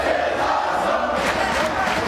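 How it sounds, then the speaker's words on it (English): Wrestling arena crowd at TNA Unbreakable 2005 during an X Division title match, a steady dense roar of cheering and shouting that fills the space without a break. "Listen to the crowd."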